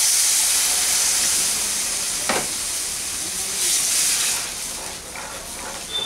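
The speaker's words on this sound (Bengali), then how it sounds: "সুজিটা হালকা করে ভাজা হয়ে গেছে, এখন এর মধ্যে আমি জল দিয়ে দিচ্ছি।" Water poured into hot pan-fried semolina for a halwa, bursting into a loud hissing steam that gradually settles into a softer sizzle, with a few faint clinks of a utensil.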